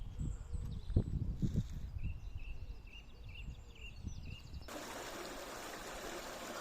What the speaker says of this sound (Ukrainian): Тече річенька невеличенька